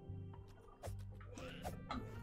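A small chick in the video game Tunic peeps and clucks in short, bright bursts over a low, steady game-music drone, the calls close and irregular.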